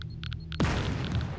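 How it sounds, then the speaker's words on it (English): A deep explosion booms in the survival video game Scum, bursting loud and sudden after a moment of quiet, then rumbling and crackling as it fades. "Let's just stay here while that explosion goes off, okay?"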